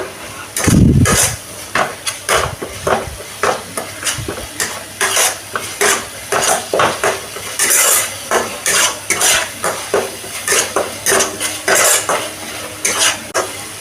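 Chilli powder and turmeric masala are stir-fried in oil in a pan, a spatula scraping and clinking against the metal in a steady repeated rhythm over a constant close sizzle, with no one talking.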